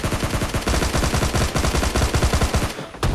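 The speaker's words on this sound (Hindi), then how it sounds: "अब इसको नॉक करते ही पीछे से शॉटगन चली।" Shotgun fire in PUBG Mobile Lite, loud, repeated close blasts in quick rhythmic succession with a brief gap before a final shot.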